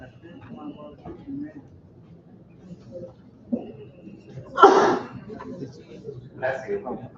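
A single short, sharp sneeze bursts out in a lecture hall, loud and close against soft background chatter and murmuring voices.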